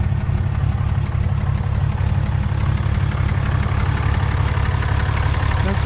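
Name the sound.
Ram 2500 6.7 liter Cummins turbo diesel engine idling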